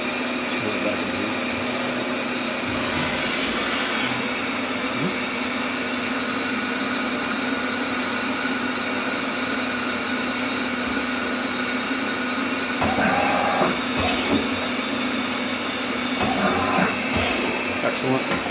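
A 2011 Doosan Puma 2600M live-tooling CNC lathe runs with a steady, fairly quiet whir and hum, holding an even level throughout, with a few slightly louder surges near the end.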